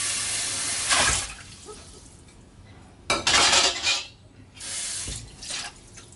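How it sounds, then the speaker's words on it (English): Dishes get rinsed under a running sink tap aboard a sailboat, with water gushing in bursts and plates and cutlery clattering between the flows, close by and fairly loud. "So first, I rinse the dishes off in the sink."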